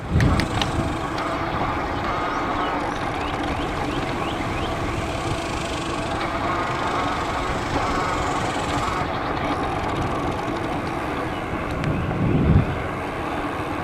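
Wind rushing steadily over the microphone while riding an e-bike on a hot day in Austin, Texas, a continuous loud roar and buffeting with road rumble beneath, rising briefly near the end.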